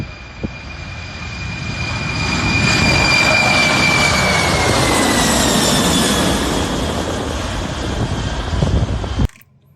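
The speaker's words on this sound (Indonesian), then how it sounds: "Wah, pesawat terbang" White toy airplane producing an electronic aircraft engine sound, a loud, close whine with rising tones and mechanical whirring that holds steady for several seconds and then cuts off abruptly.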